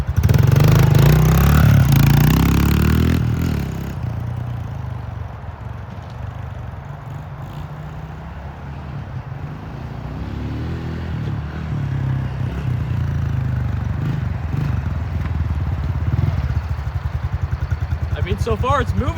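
A 110cc motorbike fitted with a cheap $12 chain revs loudly at first, then settles into a steady, moderate engine drone while being ridden, with some talking over it.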